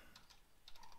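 Quick, light keystrokes on a computer keyboard, a handful of soft clicks in an uneven burst, faint and close, with no talking.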